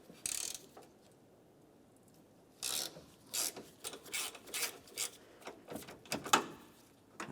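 A 5mm Allen socket turns counterclockwise on the grille screws of a 2006–2011 Honda Civic, giving short scraping ratchet clicks in irregular bursts, close and fairly quiet, with no talk.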